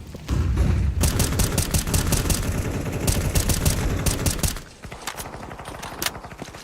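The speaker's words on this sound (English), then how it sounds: "Deploying flashbang." A flashbang grenade goes off in a first-person shooter video game, heard as a loud, dense burst of crackling blasts that cuts off abruptly and is followed by quieter ringing and scattered pops, with no voices.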